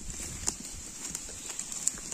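A goat walks on the ground, its hooves making a few faint, irregular taps over a steady background hiss.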